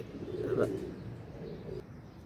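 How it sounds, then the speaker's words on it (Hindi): Soft pigeon coos drift over a steady outdoor hiss, a few low murmuring calls with faint chirps, distant rather than close. "माशाल्लाह ये कबूतर है"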